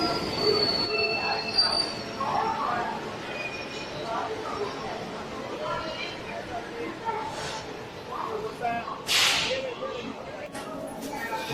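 The Howrah Raxaul Express rolls into Bardhaman Junction with loud, grinding wheel noise and sharp metallic squeals rising now and then, while a voice speaks over the steady rumble of the arriving train.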